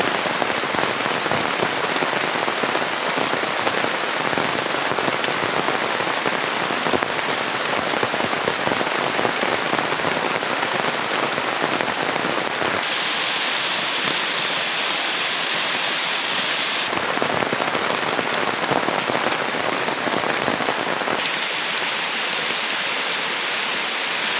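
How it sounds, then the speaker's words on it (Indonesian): Heavy rain pours steadily onto a makeshift leaf shelter at a riverside survival camp, a dense, loud, continuous hiss with no pauses and no voices. "tiba-tiba hujan turun dengan begitu deras"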